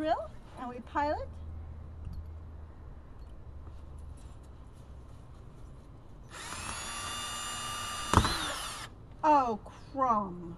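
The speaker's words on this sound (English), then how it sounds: "We take our drill and we pilot." A power drill whirs steadily for a couple of seconds drilling a pilot hole, with a sharp knock near its end, bracketed by children's voices before and after.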